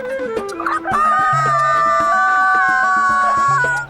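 A loud, drawn-out rooster crow imitated by a person, strongly tonal and sustained for several seconds, sounding like a cartoon or voiced imitation rather than a real bird.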